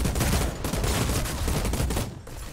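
Rapid hip-fired gunfire in the Outriders video game, a dense, loud burst of continuous shots running nearly the whole time before a brief dip near the end.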